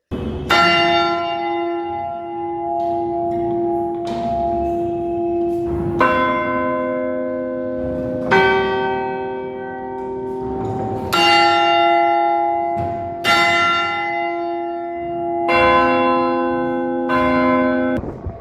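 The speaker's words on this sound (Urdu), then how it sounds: "ہم آپ کو سنواتے ہیں 4:15 بجے گھنٹہ کیسے بجا، سنیے۔" A historic municipal clock tower bell strikes for 4:15, ringing a series of loud, resonant chimes about every two to three seconds, each tone humming and overlapping with the next, heard alone.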